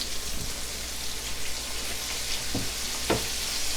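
A blooming onion frying in hot oil on a cooktop: continuous crackling, rain-like sizzle close by, with a few sharper pops and spatters standing out, no talking.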